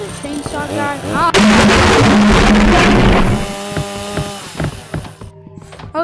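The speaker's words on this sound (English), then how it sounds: "Okay, that was a chainsaw guy." Chainsaw in a video game, a loud buzzing roar that bursts in abruptly and runs for about two seconds before fading into lighter clatter; a voice talks before and after it.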